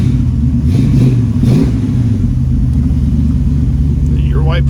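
A 1969 Ford Mustang convertible's 351 Windsor V8 with automatic transmission, running close up with a steady, heavy low rumble and a couple of brief revs near the start, idling loud throughout.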